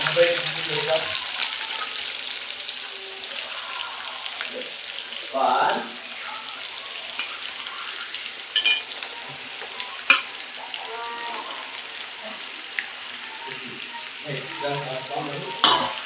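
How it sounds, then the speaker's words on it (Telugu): Chopped onions go into tempered oil for a dried prawn and onion curry, producing a continuous close frying hiss with occasional louder bursts of sizzling and stirring, and a voice talks at times. "పోపు దినుసులు చిటపటలాడాక మనము ముందుగా తరిగి పెట్టుకున్న ఉల్లిపాయల్ని అందులో వేసుకోవాలి"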